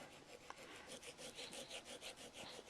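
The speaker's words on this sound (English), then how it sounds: "And then you just start sanding, turn the neck a little each time, and hand sand it" Hand sanding cork on a saxophone neck, a close, rhythmic rasping scrape repeating in quick even strokes, alone without talk.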